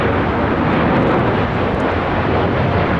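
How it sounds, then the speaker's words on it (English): A Japan Airlines Boeing 787-9 Dreamliner taking off, a loud, broad, continuous jet engine roar that fills the whole clip steadily without breaks or voices. "It's Japan Airlines Flight 69 taking off to Osaka on the 787-9 Dreamliner"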